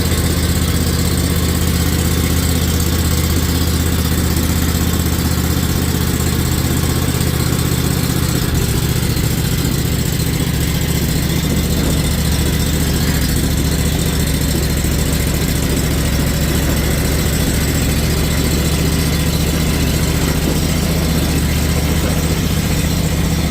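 An old Ferris mower engine idles steadily and loudly close by, a continuous low rumble that shifts slightly in tone partway through, with no talking.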